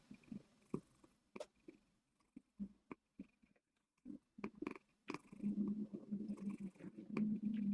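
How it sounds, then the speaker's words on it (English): A pet cat purrs close up in a quiet indoor room, a low steady rumble that grows fuller and continuous toward the end, broken earlier by soft clicks and small shuffling noises. "It's apparently purr time."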